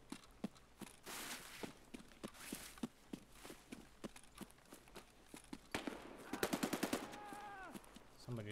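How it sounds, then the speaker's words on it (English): Bursts of automatic gunfire in Escape from Tarkov during a Customs raid, rapid rhythmic shots mixed with footsteps, moderately distant and fairly quiet, ending in a dense volley. "Somebody's getting shot there."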